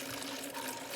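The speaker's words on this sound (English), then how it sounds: "now we're gonna pour this water" Water pours in a continuous, faint splashing trickle, steady for a brief moment with no voices over it.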